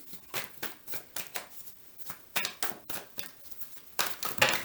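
Tarot cards are shuffled by hand in a steady run of soft, papery riffles and slaps, about two per second, close to the listener with no voices.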